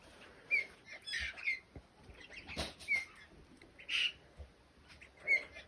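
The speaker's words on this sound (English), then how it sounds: "the parrots are crimson rosellas" Harsh squawks and shrill calls of crimson rosellas and choughs ring out every second or so, with flutters of wings between them, nearby and moderately loud.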